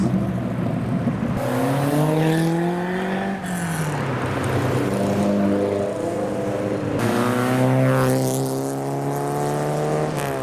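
A TVR sports car drives past on a road packed with custom cars, its loud engine revving through rising and falling pitch sweeps as it passes close by and gear changes break up the note.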